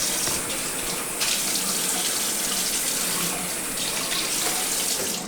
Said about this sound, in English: Throw some cold water on my face.